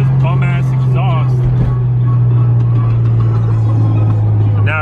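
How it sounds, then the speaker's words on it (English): A Nissan 240SX driving with a loud, droning exhaust, a steady low engine note running throughout, with someone talking over it close by. "right now the car is actually driving fine, just with this bum ass exhaust"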